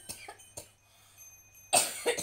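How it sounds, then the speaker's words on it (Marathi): Coughing from a woman at home during a morning vlog, a few separate coughs up close, a couple of short ones and then a louder burst near the end, with no speech. "असं खोकला येते बघ"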